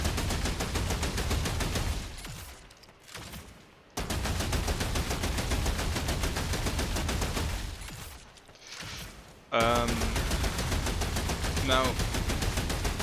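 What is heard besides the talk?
fully automatic corrupted weapon firing in video game Remnant 2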